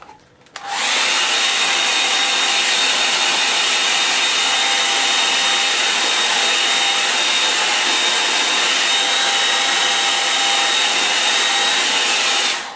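A hair dryer blasts steadily onto a watercolour painting, switching on after a brief quiet start and holding a loud, even whoosh for the rest of the time.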